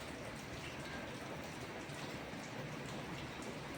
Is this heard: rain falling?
yes